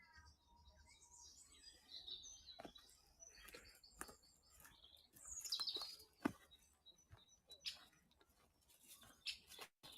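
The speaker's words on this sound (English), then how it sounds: "Great spotted woodpecker chucking away." A great spotted woodpecker gives repeated sharp chucking calls in spring woodland, scattered and fairly faint amid other bird chirps and light rustling.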